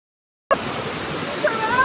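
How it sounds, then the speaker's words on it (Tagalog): A river in a natural outdoor setting, its water rushing steadily and close by after a sudden start, with a continuous broadband wash and small surges. "Ang ganda ng ilog na to."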